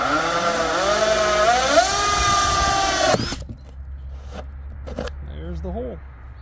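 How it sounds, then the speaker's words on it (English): A power drill whines as it bores down through a thin RV panel, its pitch climbing and wavering for about three seconds before stopping abruptly. Then come faint handling clicks and a voice speaking nearby. "Put that drill right in the middle. And straight down."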